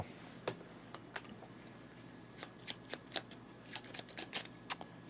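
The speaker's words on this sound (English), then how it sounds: "I need to shuffle his deck too." A deck of cards being shuffled during a solo tabletop board game, giving a series of short riffling bursts and crisp snaps at close range over a quiet background.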